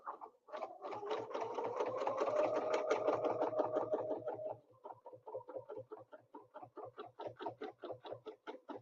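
A sewing machine stitches a quilt with a snowflake ruler in rapid, rhythmic mechanical bursts, first a fast continuous run, then a slower, evenly pulsed stitching, close and clear with no talking.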